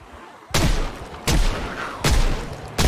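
Revolver shots fired at zombies in the video game Cataclysm DDA, four loud sharp bangs spaced under a second apart, each with a short decaying tail.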